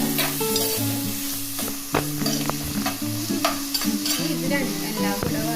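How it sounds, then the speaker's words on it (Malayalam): Sliced onion sautéing in hot oil for a prawn roast, a steady close sizzle with repeated scraping and stirring clatters from a spoon in the pan, while faint background music plays underneath. "എല്ലാം കൂടെ വഴന്ന് നമ്മളൊരു ചെറിയൊരു ബ്രൗൺ കളറായിട്ട് വരട്ടെ"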